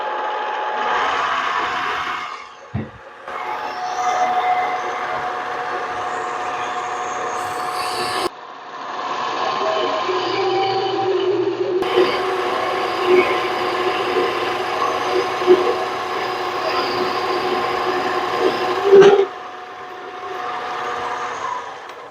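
A Harbor Freight mini lathe takes a roughing cut, giving a steady mechanical whine and cutting rasp with brief pauses and a few sharp clicks, heard close with no talking.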